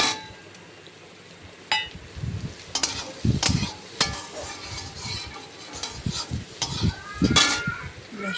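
Soybean chunks fry in a pan and get stirred, a soft steady sizzle under repeated sharp clinks and scrapes of the spatula against the metal, close and without talk.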